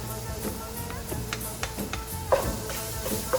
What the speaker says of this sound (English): I'm going to let that fry away for a good 5 minutes, so that the onions soften in with the spices